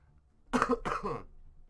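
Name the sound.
cough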